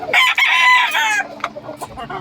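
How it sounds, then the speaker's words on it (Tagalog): Farm chickens cluck loudly and close by at feeding time, with a burst of overlapping calls and a crow-like cry followed by scattered shorter clucks. "Pagkakain naman ng manok"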